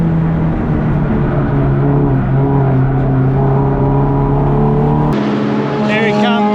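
A 1000 bhp Nissan GT-R time-attack race car passing on a track, a loud sustained engine roar that cuts off abruptly near the end, followed by fainter mechanical whine.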